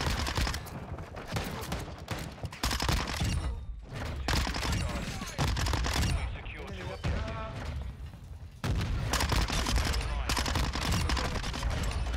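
A Minibak submachine gun fires in Call of Duty Modern Warfare 2, with long, loud, rapid bursts separated by short pauses, plus impact thumps and talk over the top.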